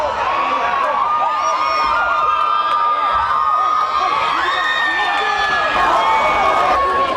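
Student section fans cheering and shouting in a high school boys varsity basketball gym, a dense, continuous roar of voices with whoops rising over it, loud and close throughout.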